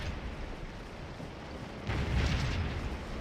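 Artillery fire in an American Civil War battle game, a steady rumbling cannon roar that swells into a louder, heavier boom partway through, with no talking.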